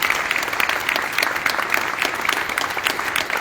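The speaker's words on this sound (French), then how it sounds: "Je demande de bien vouloir les applaudir aussi." Audience applause at a concert in support of the Ukrainian people, a dense, loud burst of steady clapping from a crowd lasting the whole stretch.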